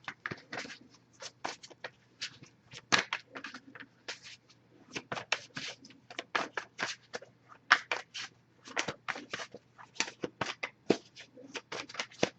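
A tarot card deck being shuffled by hand, a steady run of quick papery riffles and slaps close by, continuing with brief pauses and no talking.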